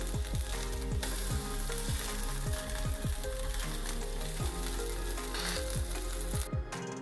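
Rice and garlic aayte batter frying in a hot pan, a loud, steady crackling sizzle that fills the whole stretch, with repeated light scraping taps of a utensil and no talking.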